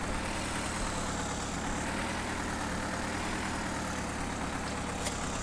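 Old-style tractor engine idling in Farming Simulator 2015, a steady low diesel rumble that holds evenly and continuously throughout, close and fairly loud, with no talking over it.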